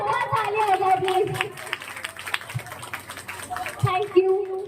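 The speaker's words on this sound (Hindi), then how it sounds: "तो इनके लिए भी एक बार जोरदार तालियां हो जाए प्लीज।" An indoor audience claps for a performer at a gathering, a scattered, moderately loud round of applause mixed with voices and chatter.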